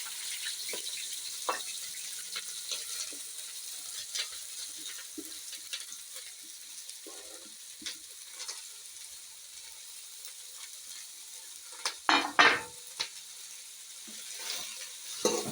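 Onion frying in oil in a pan, a soft, steady sizzle with scattered stirring scrapes and a louder clatter burst near the end, heard alone and fairly close.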